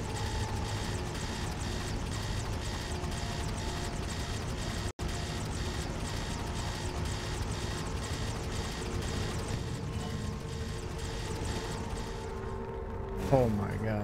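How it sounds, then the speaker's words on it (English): A helicopter in the video game Prototype flies and lands, its engine and rotor producing a loud, steady droning whine with a rhythmic pulse, shifting briefly near the end as it settles. "Land the helicopter."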